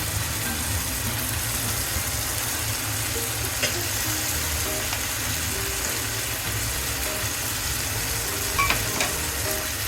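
Pieces of fried katla fish going into a pan of curry and being stirred, a steady low sizzle with occasional soft scrapes, close and without talk.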